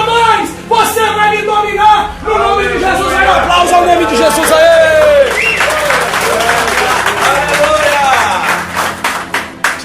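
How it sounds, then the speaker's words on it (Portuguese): A church congregation bursts into loud applause and cheering during a sermon, with shouts and exclamations mixed into dense clapping; voices ring out over the crowd throughout, and the clapping thins toward the end. "Um aplauso ao nome de Jesus"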